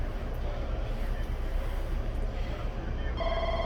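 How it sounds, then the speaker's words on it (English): A telephone begins ringing near the end, a short burst of bright electronic tones over a low, steady hum inside a vehicle. "Goddamn phone calls."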